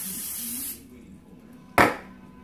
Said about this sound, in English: So I'm going to go ahead and spray this down real good